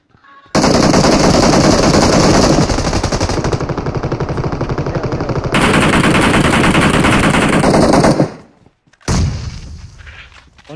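Automatic machine gun fire from PUBG Mobile hammers in a loud, nearly unbroken stream for about eight seconds, then stops briefly before one more short burst.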